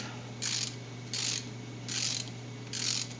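Ratchet wrench clicking in four evenly spaced bursts while tightening a bolt during a Dana 60 axle conversion, close and clear over a steady low hum, with no talking.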